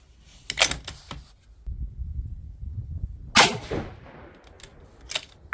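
Scoped rifle fired from a bench, giving two sharp cracks a few seconds apart, each with a short ringing tail, amid faint handling noise.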